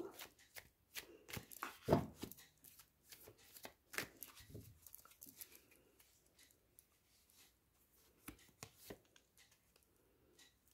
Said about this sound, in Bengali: আমি এক্সপ্লেনেশনের জন্যে প্রত্যেকটা কার্ডের এগেনস্ট একটা করে কার্ড নিয়ে নিচ্ছি।